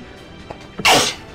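A single sharp human sneeze, close and loud, preceded by a couple of short breathy intakes before the burst.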